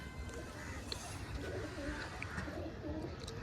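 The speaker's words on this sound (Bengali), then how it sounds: "তবে অনেক পুরনো লাইনের পায়রা আছে দাদাদের কাছে। এই একটি পায়রা," Old-line Madrasi pigeons coo repeatedly inside a loft, soft rolling calls overlapping at moderate distance, with faint chirps and background room noise throughout.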